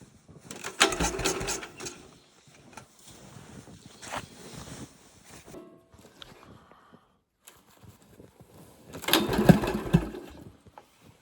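A snow blower engine is pull-started and fails to catch, giving three separate bursts of rough mechanical cranking with quiet gaps between them.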